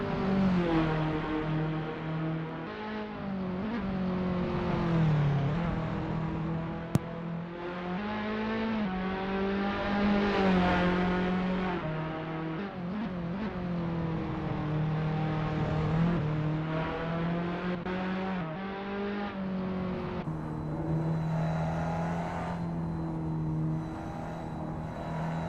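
A 1.4 turbo TCR race car engine in a racing video game snarls continuously, its pitch climbing and dropping with gear changes and throttle lifts through corners, loud and sustained with no talk.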